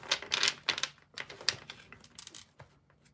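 A deck of playing cards shuffled in one full shuffle, a quick flurry of crisp riffling clicks in bursts, close and fairly loud, with no talking.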